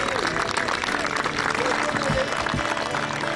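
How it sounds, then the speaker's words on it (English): A crowd applauding a competitor at the 2008 Britain's Strongest Man heat, sustained clapping and cheering from an audience, with a voice talking over it. "Give him a huge round of applause."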